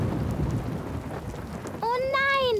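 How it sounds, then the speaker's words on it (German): In an animated children's cartoon, a thunderstorm gathers with steady rain hiss and a low rumble of thunder, and then a voice begins speaking over it near the end. "Oh nein, da zieht ein Gewitter auf."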